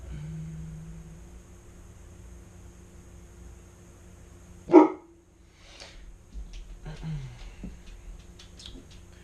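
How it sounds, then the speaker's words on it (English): A pet dog named Zeus lets out a single sharp bark indoors over a quiet electrical hum, with light handling noises and shuffling afterward. "Sorry about my dog again"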